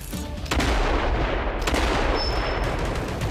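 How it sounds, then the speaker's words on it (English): Explosions and gunfire in the shooter game Evolution 2: Battle for Utopia, with a sharp blast at the start, a heavy boom around half a second, another burst near 1.6 seconds and continuous loud rumbling throughout, without talk. "that's a grenade"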